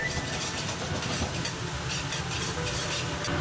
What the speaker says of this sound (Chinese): 投入姜双米，搁少许海椒面，稍稍爆一下，爆出香味来